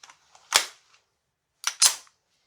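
Single shots from a CZ 40B pistol fired outdoors in cold weather, three sharp cracks in all, one alone and then two close together, each ringing out briefly.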